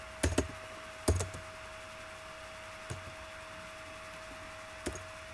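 Sparse keystrokes on a computer keyboard while typing text, a few quick clicks in short bursts with long pauses between, light and close over a steady background hum.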